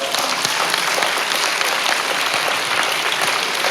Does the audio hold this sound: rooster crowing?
no